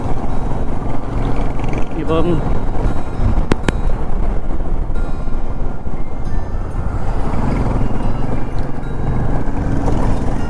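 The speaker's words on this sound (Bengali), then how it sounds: "এতগুলো বাইক আমাদের সঙ্গে চলেছে আস্তে আস্তে" Several Royal Enfield motorcycles ride slowly together in a group, a steady broadband engine and wind rumble running throughout, with someone talking over it.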